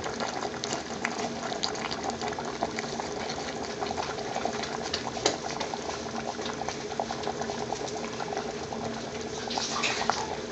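A can of coconut milk is tipped into a pot of soggy spiced ingredients for Indian restaurant base gravy, giving a steady, continuous liquid gurgle and pour that stays even throughout, with no voices.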